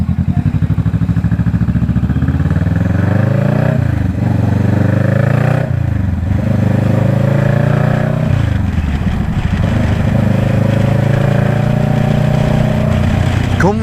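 A Vulcan S 650 motorcycle fitted with a Two Brothers exhaust idles loudly up close, its throttle blipped several times so the engine note rises and falls in repeated revs.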